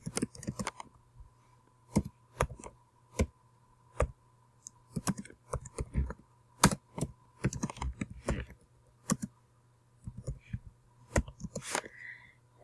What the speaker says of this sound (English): and then you can type.